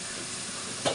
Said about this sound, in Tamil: பிறகு வெங்காயத்தை நன்றாக வதக்கவும்